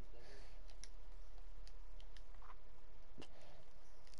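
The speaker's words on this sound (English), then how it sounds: "I really brought on my keyboard to type" Scattered clicks from a computer keyboard, a few light irregular taps spread out over quiet background noise.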